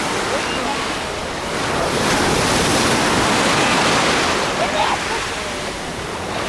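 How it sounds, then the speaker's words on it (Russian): Sea waves roll onto a hotel beach in Alanya's Oba district, Turkey, a loud continuous surf wash that swells in the middle and eases again, with strong wind buffeting the microphone. "Покажу еще, как волны носят"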